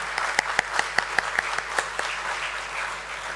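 Applause at the Premier Energies Limited listing ceremony at the BSE: a scattering of distinct claps, fairly close, tapering into a softer, diffuse patter over a few seconds.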